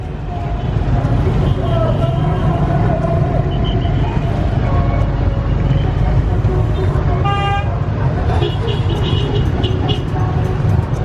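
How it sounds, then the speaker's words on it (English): Steady dense road traffic near Trang An in Ninh Binh, Vietnam, a constant loud rumble of engines with a short burst of horn toots partway through, and a voice talking faintly over the din. "we've also got all that traffic there"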